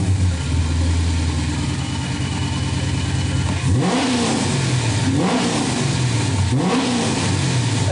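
A chip-tuned car engine runs at a steady idle, then revs sharply three times in quick succession, each rev climbing and falling, loud and close with no talk.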